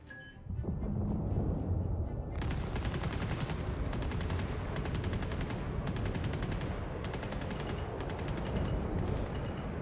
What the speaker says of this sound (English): It's just small arms fire.